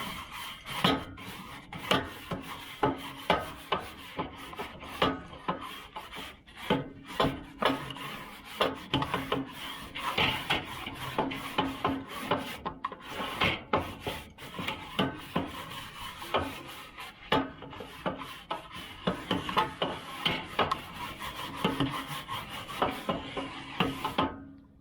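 A Weber grill's grate gets scrubbed clean with a fast, continuous run of close, loud rasping and scraping strokes for about twenty-five seconds, with no voices.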